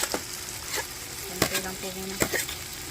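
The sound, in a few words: carrots being added to soup in a pot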